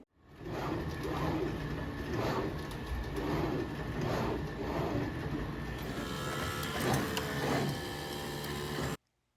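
A surface-mount assembly machine places larger components onto an electronic circuit board, producing a steady mechanical whir with rhythmic, repeating pulses of motion, loud and continuous until it stops abruptly near the end.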